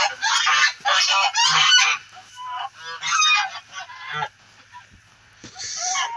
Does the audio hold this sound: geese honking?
yes